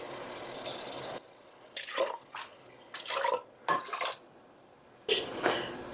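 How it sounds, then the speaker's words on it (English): Water swished around inside a can of diced tomatoes makes short, separate bursts of sloshing and splashing, with quiet pauses between them and no talking. "I have a 1/3 of a can of water. I just want to give it a good swish."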